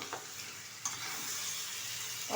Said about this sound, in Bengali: এখন চিকেনটা ভালোভাবে মশলার সাথে কষিয়ে নেব